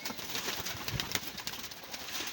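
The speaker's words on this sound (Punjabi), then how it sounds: "ਇਹ ਵੀ ਬੜੀ ਅੱਛੀ ਕਬੂਤਰੀ ਹੈ" A female pigeon coos in a fancier's loft, soft low throaty coos repeating over a gentle background murmur, close by and with no talking.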